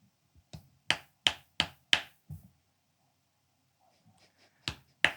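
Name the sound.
dry clapping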